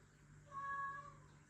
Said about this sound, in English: My cat's very chatty.